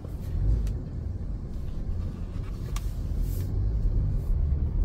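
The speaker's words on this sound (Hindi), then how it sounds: "पीछे करनी पड़ेगी गाड़ी।" A car engine idles and rumbles steadily at low pitch as the car is reversed near a house, close and continuous, with no talk.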